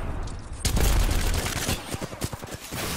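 Havoc rifle in Apex Legends firing a sustained automatic burst, loud and close, shots blurring into a rapid stream before breaking into separate cracks, with brief game sounds around it.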